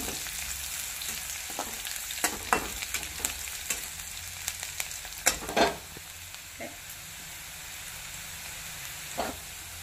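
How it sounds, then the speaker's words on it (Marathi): A soft, steady sizzle of curry leaves frying in oil for tempering, with occasional scraping stirs and light clinks over a constant hiss. "खमंग अशी फोडणी भाजीला बसली पाहिजे।"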